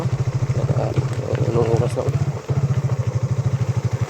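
A motorcycle engine thumps along in a fast, even pulse close to the rider, dipping briefly partway through, while voices talk over it.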